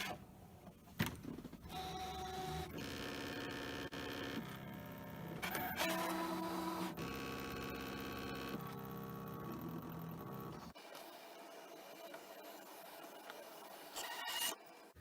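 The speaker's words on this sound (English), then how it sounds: "the machine has told us it's finished cutting" A ScanNCut machine cutting self adhesive vinyl with its half cut setting, a steady mechanical whirr and rubbing drone with shifting tones that runs throughout, then changes character near the end; close, no voices.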